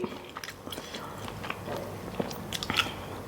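A thick crunchy snack is bitten and chewed close up, with a run of crisp cracking crunches that is loudest near the end and has no talk over it.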